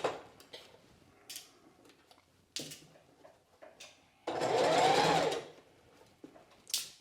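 Sewing machine stitching fabric around a curve, a burst of rapid mechanical whirring near the end, preceded by quiet clicks and fabric handling close by.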